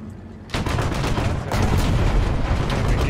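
Heavy gunfire from a tank duel in a video game involving an M36 and a Comet II, with a loud blast starting the dense rumbling barrage and a second surge a second later, sustained and close.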